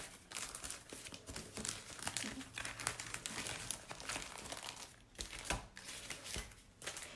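Paper envelopes being pulled out of a stationery pack, a steady close crinkling and rustling of paper with a few sharper rustles, continuing throughout with no talk.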